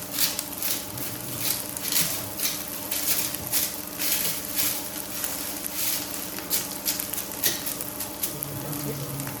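Chopped onions sauté in a pan, giving a close, steady sizzle with a crackling, hissy texture that swells and eases in uneven pulses throughout, with no talking.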